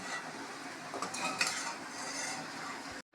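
Stirring potato masala with chopped coriander in a pan just off the stove, a close, continuous scraping and soft metallic clinking of a spoon against the pan, ending abruptly.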